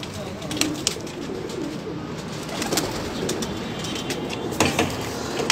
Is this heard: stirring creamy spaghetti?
no